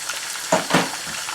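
Ground green chillies and spices stirred in a hot pan over high flame while making masala pilau, a short burst of sizzling with two quick scraping stirs, close and fairly loud.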